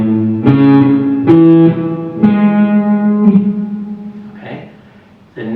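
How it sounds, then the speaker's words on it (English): A guitar major seventh arpeggio picked note by note on a single string: four sustained plucked tones rising one after another, each ringing into the next, close and clear, with no talking. "the first one is going to be a major seventh chord"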